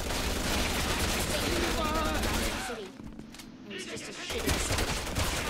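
Sustained gunfire in the video game Resident Evil 6, dense rattling automatic bursts that thin out briefly midway before resuming, with voices speaking over the shooting.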